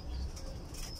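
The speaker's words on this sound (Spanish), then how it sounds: "Acá tenemos, se llaman tórtolas de cuello negro" Black-necked turtle doves in a breeding pen give soft low coos against a steady background hum, with faint fluttering, all at moderate distance.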